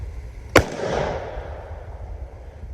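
A youth turkey hunting gun fires a single sharp, loud shot during outdoor target practice, followed by a short fading echo tail and then quiet.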